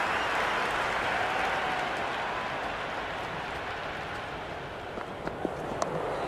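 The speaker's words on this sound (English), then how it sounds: "The crowd is electric right now." Simulated stadium crowd in the Cricket 26 video game, an India vs South Africa one-day international, roaring in a steady dense wash that eases slightly, with a few sharp bat or click sounds near the end.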